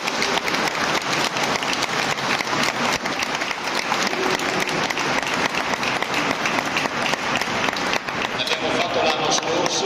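Sustained, dense applause from a large audience inside a church during an award ceremony at the Festa del Pescatore in Chioggia; loud, even clapping continuing without pause throughout.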